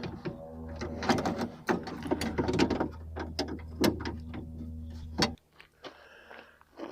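Ute door handle and lock mechanism worked through repeated close clicks and clunks of latch and ratchet, with a steady low hum beneath, ending in a sharper snap before the hum cuts out.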